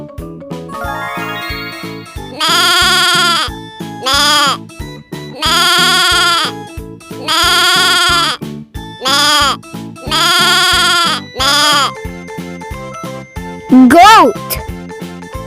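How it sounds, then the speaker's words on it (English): Goat bleating in repeated drawn-out calls, loud and close, over a light jingling children's tune with chime-like tones. "Goat."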